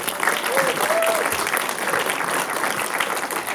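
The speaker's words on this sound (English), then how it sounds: "big round of applause for Broken Symphony" Applause from a film-festival audience for the short film Broken Symphony, a steady, full wash of many hands clapping throughout, with a voice briefly audible over it.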